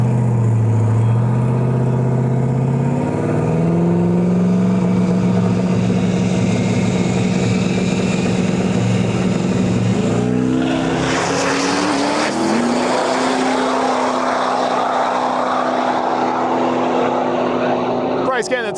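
A turbocharged LS-powered Cutlass and a Duramax diesel-powered Nova launch at a drag strip, their loud engines droning and rising in pitch as they pull away, heard under an announcer's voice.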